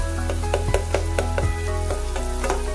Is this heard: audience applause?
no